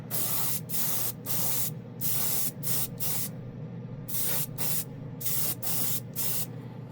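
An airbrush sprays Kaleido clear candy acrylic paint onto a spoon in a run of short, sharp hissing bursts with brief gaps between them, close and fairly quiet, over a low steady hum.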